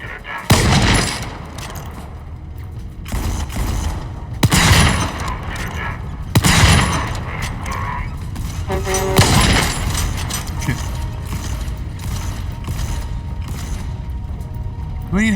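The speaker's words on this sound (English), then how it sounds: "So it requires 2 rounds from the sniper rifle to kill those guys." Sniper rifle shots in the video game Volcanoids: several sharp, loud cracks spaced a second or two apart, with mechanical clunks and rumbling between them.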